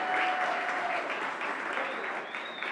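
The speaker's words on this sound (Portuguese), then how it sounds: "Vale um aplauso mesmo," An audience gives a steady round of applause, dense clapping that stays fairly loud and thins slightly toward the end.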